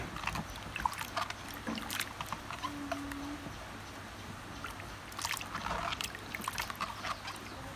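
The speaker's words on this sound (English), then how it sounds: "Then rinse with clean water." Apples rinsed in clean water, with irregular splashing and sloshing clusters that come and go, close and fairly quiet, with a brief faint hum in the middle.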